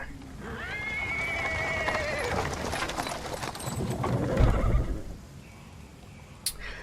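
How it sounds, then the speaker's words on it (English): A horse in the Pathfinder: Wrath of the Righteous video game whinnies loudly at close range, followed by clip-clopping hooves of the horse drawing a cart, with a final sharp knock. "Cart drawn by a sad little horse appears from around the corner."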